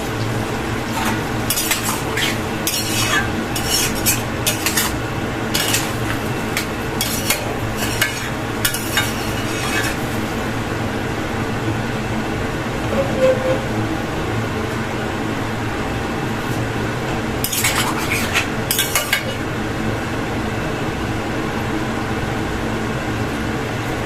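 Liquid sauce poured into a pan of chilli chicken and stirred, with scattered metallic scrapes and clatters of a spoon against the pan over a steady background hum, loudest in bursts early and again near the end.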